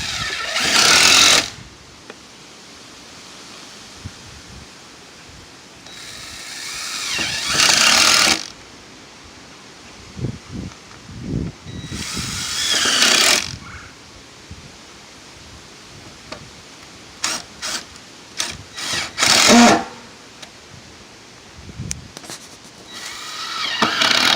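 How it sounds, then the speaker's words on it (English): A power tool drives screws into a mobile home's metal roof in several separate bursts, each a few seconds long, with quieter gaps between them. "Put screws all the way around it."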